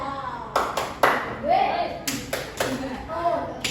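Primary-school class in a science lesson doing a rhythmic patterned group clap, several sharp bursts of claps in sequence with children's voices chanting and talking throughout.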